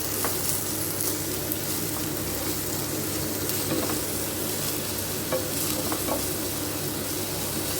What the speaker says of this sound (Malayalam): അതിലേക്ക് ആവശ്യമായിട്ടുള്ള ഒരു 2 ടീസ്പൂൺ ഇഞ്ചി വെളുത്തുള്ളി പേസ്റ്റ് ഇട്ട് നന്നായി മൂപ്പിച്ചെടുക്കാം.